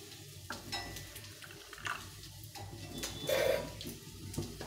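A spoon stirs cumin and turmeric powder into water in a bowl, giving quiet, close swishing and occasional clinks against the vessel, with faint kitchen background and no talk.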